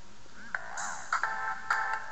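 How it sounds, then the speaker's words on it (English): An AT&T BlackJack phone plays its ringtone: a bright electronic melody of rising and falling tones with several sharp note attacks, moderately loud and alone in a quiet room. "and this is my ringtone. It's pretty cool."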